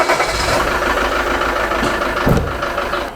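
A used camper van's engine turns over and settles into a steady idle, a continuous close rumble with a brief louder surge partway through and no talking.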